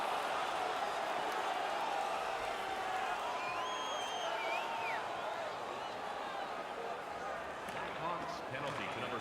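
A hockey arena crowd in the NHL 19 video game roars steadily after a fight, a dense, constant wash of cheering with a few whistles rising through it.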